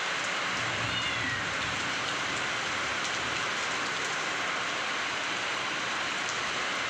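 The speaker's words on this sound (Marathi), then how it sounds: "भारी वाटते पावसात वातावरण बी असं भारी झालंय" Heavy monsoon rain pours down on a calm, windless day, a dense and even hiss that runs unbroken from start to finish.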